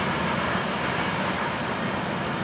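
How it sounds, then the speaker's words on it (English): A Florida East Coast Railway freight train, number 210, rumbles steadily past at close range, a broad continuous roar of wheels and cars with a faint clickety-clack and no voices. "the morning train has gone by us."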